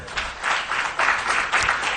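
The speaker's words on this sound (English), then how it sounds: "A round of applause for them." Audience applause at a public political forum on a national budget, steady clapping from a crowd that rises and falls in waves over two seconds, fairly loud and close.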